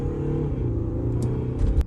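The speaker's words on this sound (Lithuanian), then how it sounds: "Testuojam Audi gatvėj. Gazas dugnas." An Audi A6 TDI diesel car accelerates at full throttle on a street after an air-flow repair, a loud, steady engine roar that swells slightly near the end, heard without talk.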